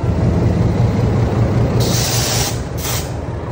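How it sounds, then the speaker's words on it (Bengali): A lone train locomotive rolling past, heard as a loud, steady low rumble with broadband noise throughout and two short hissing bursts near the end, without speech. "এই ট্রেনের ইঞ্জিন একা একা যাচ্ছে"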